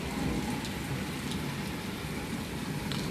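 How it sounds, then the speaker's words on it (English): Rain falling on a stormy day, a steady dense patter of drops with a few sharper ticks, continuous and moderately loud with no voices. "See, like the rain is letting up,"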